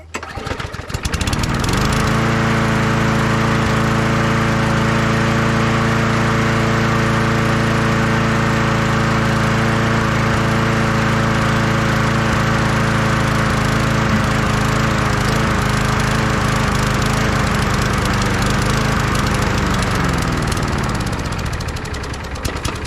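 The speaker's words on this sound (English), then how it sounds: "let me give you some riveting footage of a lawnmower running out of gas." A lawn mower's small gas engine runs steadily and loudly at close range for about twenty seconds, then sputters and dies as it runs out of fuel, with no talking.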